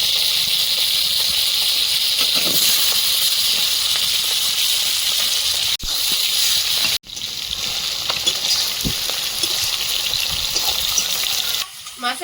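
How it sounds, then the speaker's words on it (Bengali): Shrimp and potatoes fry in a pan with a loud, steady sizzle and hiss that carries on almost without pause, broken by a couple of brief dips and occasional stirring scrapes close by. "চিংড়ি মাছটা দিয়ে দেবো আলুর সঙ্গে এক মিনিট ভেজে নেব"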